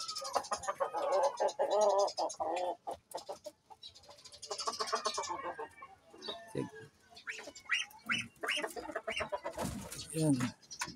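Backyard pet chickens clucking and calling close by, with pigeon and duck sounds mixed into a busy, irregular run of bird noise, and someone talking over parts of it.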